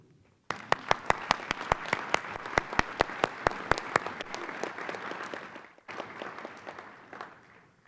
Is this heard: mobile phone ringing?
no